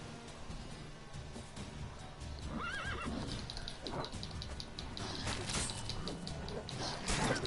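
Geralt's horse Roach in The Witcher video game lets out a clear whinny midway, among the clip-clop of galloping hooves and rushing game sounds that build louder toward the end.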